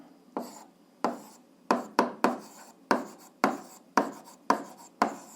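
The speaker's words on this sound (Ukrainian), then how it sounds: "Так і пишемо рівняння." Writing out a heat balance equation during a physics lesson produces about ten crisp, scratchy strokes in quick, uneven succession, each sharp onset fading briefly, close and clear without talk.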